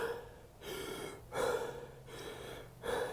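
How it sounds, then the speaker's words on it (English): Rhythmic Wim Hof method breathing: deep, forceful breaths drawn in and let out through the mouth in a steady cycle, with about three loud inhales close to the mic and softer exhales between, with no talking. "You're just breathing in and out like that 30 times."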